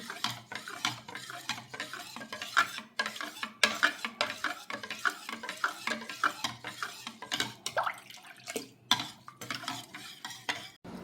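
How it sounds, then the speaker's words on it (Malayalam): A spoon stirring mango kheer in a pot: close, continuous scraping and clinking against the pan with soft wet swishes, irregular strokes over several seconds, no voice. "നന്നായി ഇളക്കിയെടുത്താൽ മതി."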